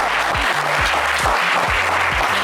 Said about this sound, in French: j'aimerais qu'on vous applaudisse